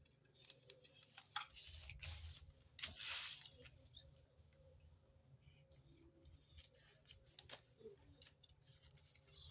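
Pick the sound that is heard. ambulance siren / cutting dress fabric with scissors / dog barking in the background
cutting dress fabric with scissors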